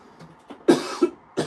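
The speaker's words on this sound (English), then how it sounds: "Probably needs some cough drops." A cyclist in a race peloton coughs, giving a few soft throat sounds and then two loud, harsh coughs close to the microphone, followed by a third.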